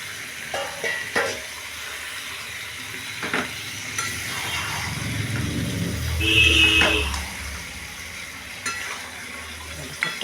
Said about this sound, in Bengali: এবার হচ্ছে এঁচোড়টা আর আলুটা ছেড়ে দিচ্ছি।